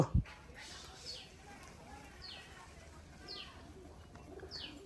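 Faint, repeated calls from a Rajshahi Giribaj tumbler pigeon recur about once a second over a soft outdoor background hiss, distant rather than close.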